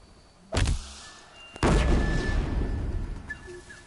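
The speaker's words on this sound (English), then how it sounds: "Let's use one of these bombs for these guys here." Bombs exploding in Horizon Zero Dawn: two sharp, loud blasts about a second apart, each followed by a rumbling, crackling decay, with faint game tones over it.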